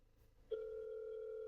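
A BMW SOS emergency call button connects and the line begins ringing, a sudden steady electronic tone that starts after a brief quiet and holds evenly, close and clear with no voices.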